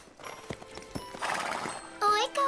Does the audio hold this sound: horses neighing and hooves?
yes